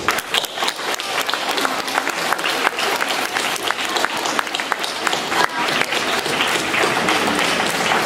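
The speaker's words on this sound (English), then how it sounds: "Would you join me in a round of applause?" An audience at an 8th-grade graduation ceremony breaks into a sustained round of applause, dense clapping filling the hall steadily for several seconds with a faint murmur of voices underneath.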